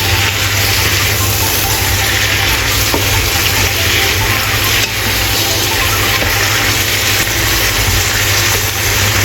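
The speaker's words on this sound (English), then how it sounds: "then stir fry and kailan is done" Kailan and enoki mushrooms stir-fry in a wok with a loud, continuous sizzle and hiss, steady and close throughout, with faint scrapes of the utensil against the pan.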